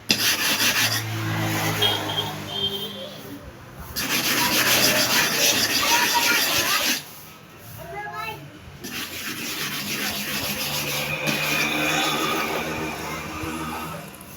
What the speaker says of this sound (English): You see the way I'm preparing the surface of my super hard manual sharpening stone?